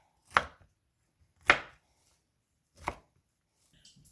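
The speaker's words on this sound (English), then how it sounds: "And then I'm just going to chop these" Vegetables for a salad are chopped on a board in three distinct, well-spaced knife strikes, each a crisp close thud, with quiet in between and a faint rustle at the end.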